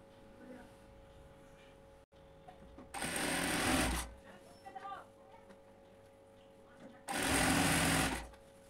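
A sewing machine stitches a cotton housecoat in two loud, steady bursts of about a second each, separated by quieter handling noises and someone talking in Bengali.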